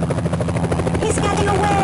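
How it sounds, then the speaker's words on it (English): A military helicopter lifts off in a Daikatana game cutscene, its rotor chopping loud and steady throughout, a close continuous whir filling the whole moment. "That's a military chopper they took off in."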